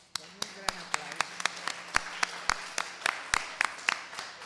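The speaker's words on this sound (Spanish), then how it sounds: "la despedimos con un gran aplauso" Sparse applause from a conference audience after a lecture on women of the Mexican Revolution, a few distinct claps spaced out over a faint background hum and murmur, fairly quiet and thin.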